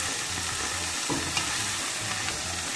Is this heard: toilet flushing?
no